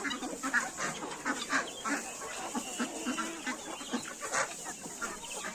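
A flock of Legbar hens clucks steadily close by, repeated short clucks and squawks overlapping throughout with no pauses.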